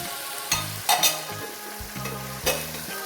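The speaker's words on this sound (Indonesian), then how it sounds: "Kita aduk-aduk sampai merata ya." Chicken liver and gizzard with basil leaves are stirred through a frying spice paste, the spatula scraping the pan in irregular strokes over a steady sizzle, close by and with no talking.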